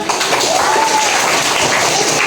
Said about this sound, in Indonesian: Kayak tepuk tangan semuanya